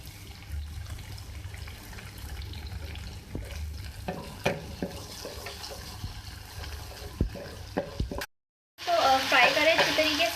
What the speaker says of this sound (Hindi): अब मैं इसमें डालूंगी मेथी दाना